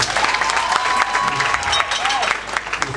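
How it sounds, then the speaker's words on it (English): A crowd claps for someone at a public event, a loud, busy burst of applause with scattered sharp claps and voices mixed in. "So a round of applause to him, ladies and gentlemen."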